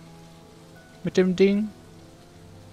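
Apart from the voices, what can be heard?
rain in the video game Whispering Willows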